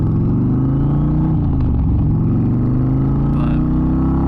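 A motorcycle engine droning steadily while riding on North Carolina roads, a loud, close, low rumble that rises and falls slightly in pitch as the bike accelerates, with no talking over it.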